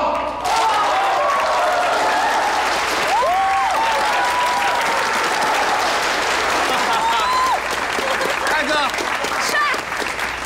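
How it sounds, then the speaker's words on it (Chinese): At a wedding, the audience bursts into loud, sustained applause to welcome the groom's entrance, and voices and whoops carry over the clapping throughout. "下面有请我们用热烈的掌声欢迎我们今天的男主人公新郎金继"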